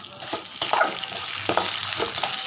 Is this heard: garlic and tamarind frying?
yes